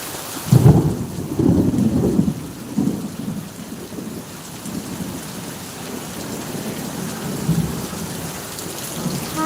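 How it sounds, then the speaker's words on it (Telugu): Heavy downpour with thunder: a loud, steady rush of rain on surfaces, with deep thunder rumbles rolling early on before easing into sustained rainfall, no voices. "వర్షం వస్తుంది"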